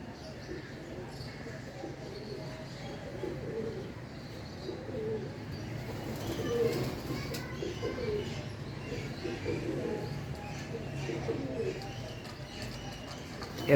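Pigeons coo softly in a continuous low murmur at moderate distance, with faint chirps mixed in and people talking intermittently in the background.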